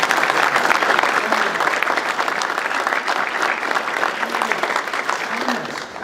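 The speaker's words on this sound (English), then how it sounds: "We like round of applause around here." Sustained audience applause at a grant announcement event, steady and dense clapping from a crowd that holds for several seconds before tapering slightly at the end.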